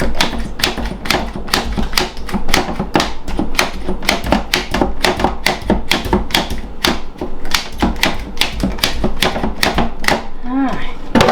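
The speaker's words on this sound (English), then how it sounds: "I'm going to tenderize a bit there first." Antelope meat being tenderized before cutting: a rapid, steady run of sharp taps and thuds that continues, close and fairly loud, for the whole stretch.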